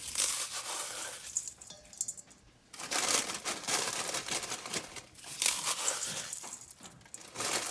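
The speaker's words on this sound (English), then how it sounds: "crush up my crackers. Don't have to be perfect, just crush them up" Crackers crushed by hand for meatloaf give close, crisp crinkling and crunching in several bursts, with a short quiet pause in the middle.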